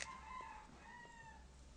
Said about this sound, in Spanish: Ya empezaron las gallinas.